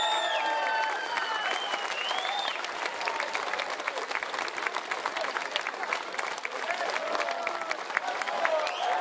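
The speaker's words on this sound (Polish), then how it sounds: "Myślę, że oklaski są tutaj jak najbardziej zasłużone." A festival audience applauds a Mexican folklore ballet and mariachi performance steadily throughout, a dense patter of clapping with scattered whistles rising above it.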